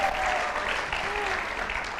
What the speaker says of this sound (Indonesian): Untuk itu Indonesia, tepuk tangan untuk Shirley Adavita.